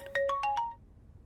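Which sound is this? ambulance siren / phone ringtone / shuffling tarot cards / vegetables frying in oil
phone ringtone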